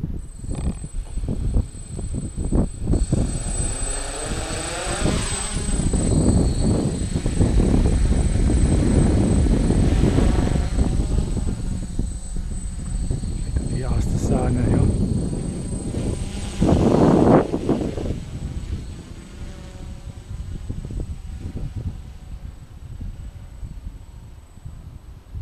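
A DJI F450 quadcopter drone takes off and flies, its rotors whirring loudly and close for several seconds, then easing off and fading as it moves away, with no talk.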